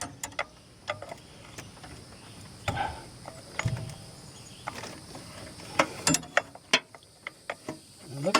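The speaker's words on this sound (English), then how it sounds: "hopefully I got the right size wrench here" A wrench works a bolt on the rear AC pipe of a 2004 Honda Pilot, giving sharp metallic ratcheting clicks and taps, scattered and uneven, that bunch into quicker bursts toward the end, close and fairly quiet.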